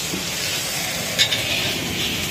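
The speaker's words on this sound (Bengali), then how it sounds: "এবারে একটু ভালো করে ভেজে নেব।" Masala spices frying in a pan for mutton curry, a steady close sizzle with a brief scrape of stirring partway through.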